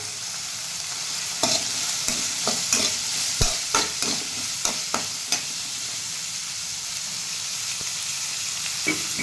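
Garlic, onion and curry leaves sautéing in oil for a dried fish curry, with a constant loud sizzle and regular light clinks of a spatula stirring the pan.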